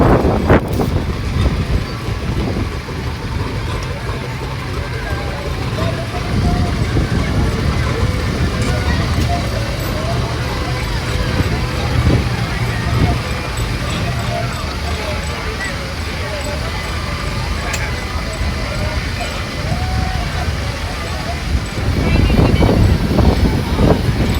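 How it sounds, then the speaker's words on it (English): A Garrett showman's steam engine rolls past in a steam rally parade at Scampston Hall, its low rumbling chuff continuous amid wind buffeting the microphone and crowd chatter, swelling slightly louder near the end. "Nice little Showman's engine there, the Garrett."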